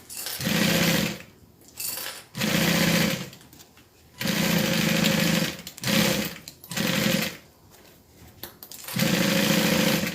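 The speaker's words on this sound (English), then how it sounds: "Just talking and sewing." A sewing machine stitching a custom bag runs in loud, close bursts of steady mechanical whirring, stopping and restarting several times with short pauses between runs.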